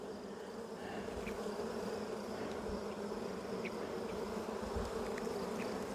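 Honey bees in an open hive during an inspection, a dense, steady close-up hum of many wings, unbroken throughout with no talking.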